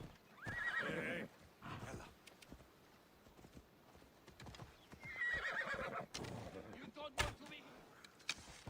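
A horse neighs loudly twice, several seconds apart, while hooves clip-clop and thud nearby.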